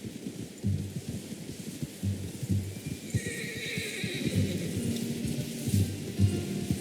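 A horse in the video game Red Dead Redemption 2 whinnies over a low, busy rumble of ambient game sound, with soft rhythmic thuds running underneath.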